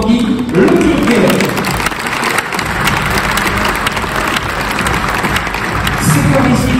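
An audience applauds a Vendée Globe skipper with steady, loud, dense clapping from a sizable crowd, under a voice speaking over it.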